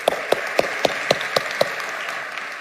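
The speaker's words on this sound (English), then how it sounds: "Please join me in giving a warm round of applause" Seven or eight sharp, evenly spaced claps ring out, close and distinct, at a conference panel, then fade away.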